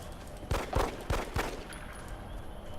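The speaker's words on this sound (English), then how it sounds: "Hooray, pistol shots!" Four pistol shots from the video game XCOM Enemy Within fire in an uneven sequence, each a sharp, moderately loud crack followed by a short tail, then quiet background sound.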